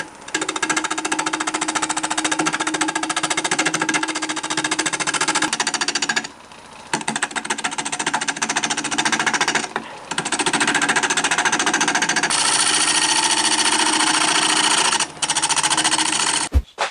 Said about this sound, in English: first I'm going to remove that tenon with a small bow gouge, just a 3/8 inch bow gouge